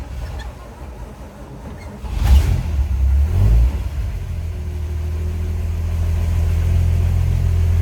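The inline-six engine of a 1949 Chevrolet pickup cranks and catches with a loud rumbling burst, then settles into a steady, throaty idle that slowly builds.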